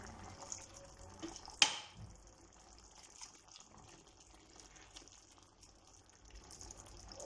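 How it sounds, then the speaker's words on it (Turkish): Water is poured over a spinach and rice dish in a cooking pot, a soft, faint trickle and splash heard alone, with one sharp clink near the start. "Şimdi bir su bardağı suyu üzerine şöyle gezdiriyorum."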